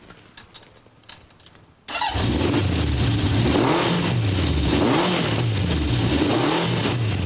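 After some light clicks and taps, a 1969 Honda CB750 K0 inline-four motorcycle engine fires up abruptly and runs loud and close, its pitch rising and falling as it revs repeatedly.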